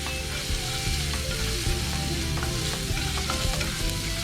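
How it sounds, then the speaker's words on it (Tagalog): Whole head of garlic sautéing in a pan for pasta, a loud continuous sizzle with stirring scrapes throughout. "So 1 whole garlic. We saute this for about 1 minute."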